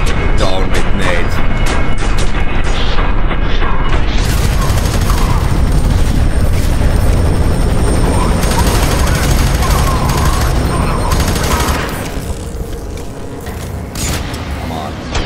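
Grenade blasts and heavy gunfire in F.E.A.R. 3, a dense, loud barrage of booms and rapid shots that fills most of the stretch before easing slightly near the end.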